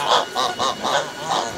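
Geese on a village farmstead honk in a quick series of about five nasal calls, loud and close, with no voices.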